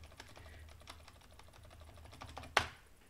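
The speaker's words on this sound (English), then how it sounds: "Now I can hit spacebar all I want" Someone repeatedly presses the spacebar on a computer keyboard, producing soft, quick clicks in an uneven rhythm. Near the end one sharper, louder clack stands out.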